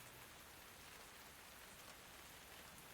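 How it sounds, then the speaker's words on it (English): Rain in the cozy video game Tavern Talk, a faint, even, continuous hiss of steady rainfall with no breaks or voices. "It's raining."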